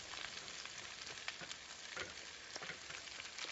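Sweet potatoes go into a sautéing pan with garlic, giving a quiet, steady sizzle dotted with soft crackles, faint and close.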